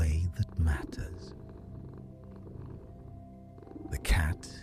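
A cat purring softly and slowly, a low steady rumble beneath a calm narrating voice that speaks at the start and end.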